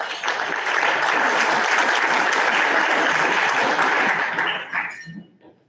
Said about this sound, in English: Please join me in giving me a round of applause.